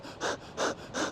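A person demonstrates shallow panting, three quick, evenly spaced breathy puffs close to the mic, imitating a panting dog.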